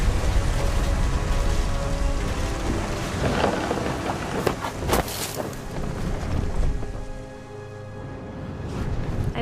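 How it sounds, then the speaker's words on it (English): Storm in the game What Remains of Edith Finch: steady heavy rain drumming throughout, broken by a sharp, close thunderclap and rolling rumbles, loud and full. "The thunder sounded much too close and full of angry power"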